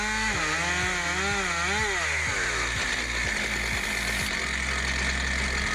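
Engine of a DIY SuperSplit firewood processor runs loud and steady while its winch drags a log along by rope and log hook, pitch dipping and rising then settling into a rhythmic rumble.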